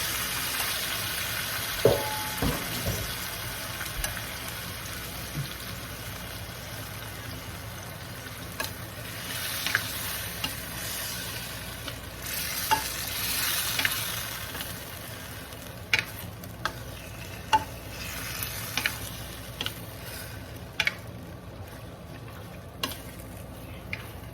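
Marinated chicken for chicken afritada sizzling and frying softly in a pan, a faint steady crackle with scattered clicks and scrapes of stirring throughout.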